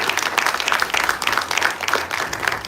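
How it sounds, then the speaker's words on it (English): An audience at a film festival press conference gives sustained applause, a busy patter of many hands clapping at moderate volume with small bursts throughout. "Can we give a huge round of applause,"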